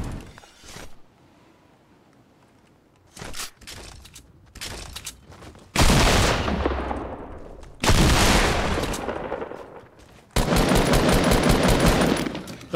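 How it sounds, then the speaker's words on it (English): A double-barrel shotgun fires in a Fortnite Battle Royale match: three loud, booming blasts, each trailing off over a couple of seconds, after softer thumps and clicks of in-game action. "This seems like a great time for the double barrel shotgun."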